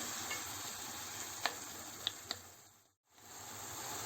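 Tomatoes for menemen cooking down in a pan, giving a soft continuous sizzle with a few faint pops and one brief dropout, quiet and steady with no voices.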